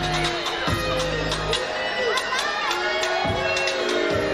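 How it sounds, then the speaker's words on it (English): A wrestling crowd at a live pro wrestling show jeers and shouts at a heel performer after a match, a loud, continuous wash of voices with scattered whoops and cheers throughout. "Crowd letting Umar Mohammed know."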